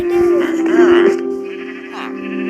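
A Minecraft sheep bleats in the video game, giving a couple of loud, close, wavering calls in quick succession.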